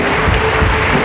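A church congregation at a Sunday worship service applauding and cheering in praise, a dense, steady wash of clapping and voices that fills the whole moment without a break.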